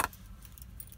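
Lifan car proximity key jangling briefly, a sharp metallic clink at the start followed by faint rattling against quiet background hum.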